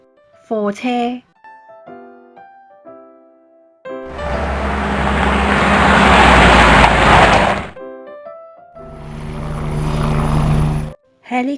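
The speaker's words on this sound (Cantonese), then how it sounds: "Helicopter" A helicopter's loud, broadband rotor and engine roar swells for several seconds, breaks briefly, then returns for a second shorter burst, with short tonal sounds at the start and end.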